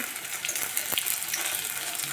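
Fish oil fritters frying in a pan during Bengali home cooking, making a steady hiss of sizzling oil with a brief soft clink as a fritter is turned over.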